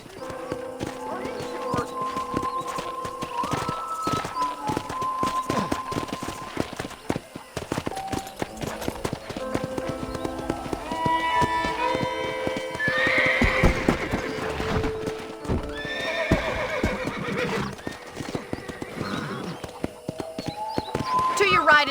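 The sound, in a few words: horse riding and neighing, video game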